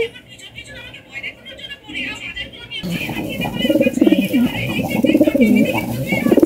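Khaki pigeons coo close by in soft, repeated throaty calls that grow louder and busier toward the end, while a person talks over them.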